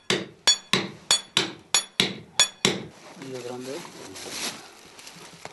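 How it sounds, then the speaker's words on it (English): Hand drilling into rock in the Andes mountains, a hammer striking a drill steel in eight sharp, evenly spaced metallic blows, close and loud, followed by a voice and low rumbling noise. "Now he carefully drills a hole into the rocks."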